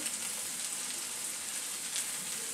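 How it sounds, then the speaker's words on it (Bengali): Eggplant fries in a pan with oil for a tangy-spicy achari baingan, giving a steady, even sizzle that stays close and fairly quiet throughout, with no voices. "বেগুনটা একটু ভেজে নেব 2-3 মিনিট"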